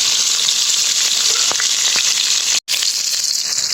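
Ginger paste, tomato and water sizzle in a hot pan for a shahi aloo dum masala, a loud continuous frying hiss with a few faint clicks and one brief break.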